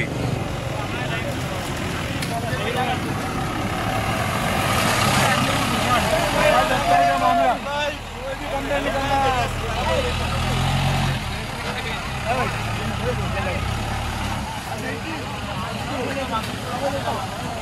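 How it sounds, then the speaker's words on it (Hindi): A Maruti Gypsy jeep's engine drones steadily during an off-road water crossing on an Amargarh waterfall trip, with splashing and rumble throughout and people talking and shouting over it. "वाटर क्रॉसिंग जीप से हमें वाटर क्रॉसिंग की जा रही है"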